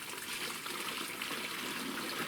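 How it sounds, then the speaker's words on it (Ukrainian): Liquid biological preparation poured from a container into a garden sprayer in a vineyard, a steady close gurgling trickle running without a break and with no voices. "заливаємо це все добро в наш розпилювач"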